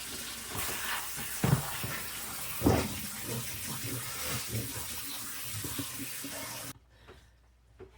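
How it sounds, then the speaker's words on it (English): Salted cucumbers and onions drained into a colander, with a continuous rush of running water and liquid splashing close by for several seconds before it cuts off abruptly. "So we're going to drain them,"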